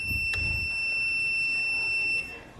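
A quiz contestant's buzzer rings at a school science quiz: a sustained electronic beep tone lasting about two seconds, sharp and loud, with a brief thump and faint voices at the start.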